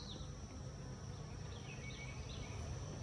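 Honey bees buzz steadily at a hive with flow frames in a close, dense hum, with individual insects droning past now and then over a low background rumble.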